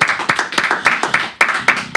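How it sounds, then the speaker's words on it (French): Audience applause in a radio studio just before a live piano-vocal performance, with brisk, uneven claps from a small group arriving in bursts over two seconds, close and fairly loud. "on pratique ici l'applaudissement de confiance"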